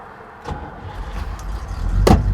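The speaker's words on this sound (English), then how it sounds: "now, watch what happens to it when I start the car" A 1961 Cadillac starts up with a low engine rumble building in over two seconds, then a sharp mechanical clunk near the end as its self-releasing parking brake lets go.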